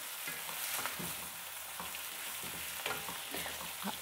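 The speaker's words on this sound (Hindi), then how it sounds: "और वन टीस्पून पिसा हुआ अदरक यानी कि जिंजर ये हम इसके अंदर डाल देंगे और इन चीज़ों को डालने के बाद इनको हम अच्छी तरह से फ्राई करेंगे" Ground ginger and spices fry in a pan for chicken nihari, giving a steady close sizzle with light stirring scrapes throughout.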